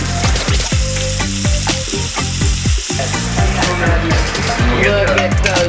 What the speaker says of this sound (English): Deep frying these smoked mushrooms.